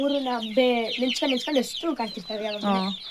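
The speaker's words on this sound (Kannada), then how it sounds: "ಇಲ್ಲಿ ನೋಡಿ ಇನ್ನು ಮಿಕ್ಕಿದ ಕೋಳಿಗಳು ಇಲ್ಲಿ ಬಿಟ್ಟಿದ್ದೀನಿ" Native country chickens cluck close by in a quick series of short, throaty calls, several birds overlapping in a busy, steady chatter.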